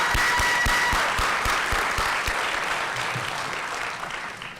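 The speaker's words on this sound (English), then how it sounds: "Give yourself a round of applause." Graduation audience applauding, dense clapping from many hands with sharp individual claps standing out, steady at first and then slowly thinning out toward the end.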